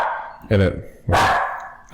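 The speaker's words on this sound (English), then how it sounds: "She hears the neighbor dog barking," A dog barks twice in short loud bursts, answering a neighbour's dog barking in the distance, with people talking over it.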